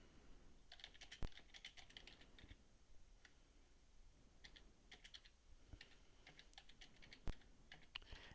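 Typing on a computer keyboard, quiet close-up clusters of key clicks in irregular bursts with a couple of sharper thumps, likely the space bar, and no talking.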